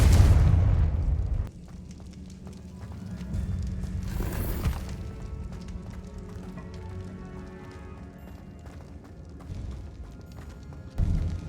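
Confringo spell blasts in the Hogwarts Legacy video game: a loud booming burst opens, followed by further rumbling impacts and a swelling explosive whoosh midway, with another sharp hit at the end.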